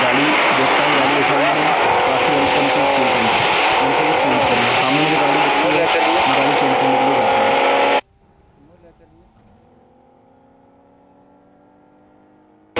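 A damaged car with a blown tyre and fitted boosters drives in the BGMI battle royale game, its engine and tyre noise loud and steady with voices talking over it for about eight seconds before it drops to quiet.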